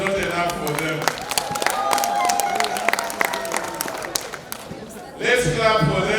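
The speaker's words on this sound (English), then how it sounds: "Let's clap for them." A crowd honouring Makerere University's first mass communication class claps in quick, irregular bursts under ongoing speech, with the clapping swelling louder and denser toward the end.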